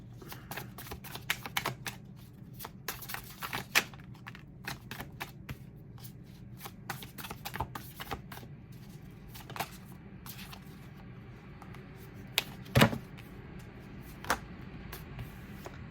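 A deck of tarot cards being shuffled up close, with a steady run of soft, papery riffles and taps plus a few sharper snaps, at a low, even level and with no voices.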